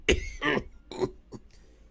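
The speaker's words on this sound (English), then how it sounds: "he ruined it by loosing a rattling cough" A rough, rattling cough in several wet bursts, the last ones fading to a quieter hack.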